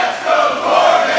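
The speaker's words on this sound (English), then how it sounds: "This crowd is making a dangerous decision by mocking Eddie Kingston with those chants." A wrestling crowd at a match between Eddie Kingston and Eric Corvis roars and chants in a broad, steady wash of voices that fills the space and never lets up.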